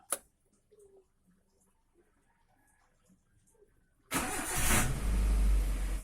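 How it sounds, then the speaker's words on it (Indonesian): A car engine cranks and catches after the ignition is switched on, starting abruptly and settling into a loud, steady idle that follows a few seconds of quiet faint clicks. "Kita akan coba menyalakan kembali mobilnya."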